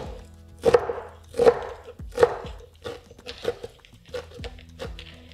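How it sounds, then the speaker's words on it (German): Parsley is chopped on a board with a knife, giving about eight distinct, close knocks in an uneven rhythm. "Noch die Petersilie hacken"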